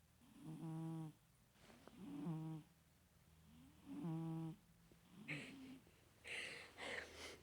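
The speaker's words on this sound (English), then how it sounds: "Ivy snoring." Ivy, a sleeping pet, snores in slow rhythmic breaths, three or four deep pulsing inhales at a steady pace, close and fairly quiet, with some faint rustling near the end.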